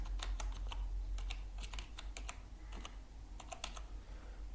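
Keys clack in quick irregular bursts on a computer keyboard as text is entered in Microsoft Word, close and clear over a low steady hum, with no voices.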